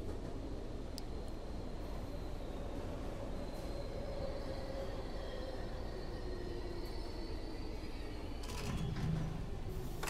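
A moving train in The Outlast Trials gives off a steady low rumble of wheels and carriage noise, with faint squeals and metallic clanks scattered through it.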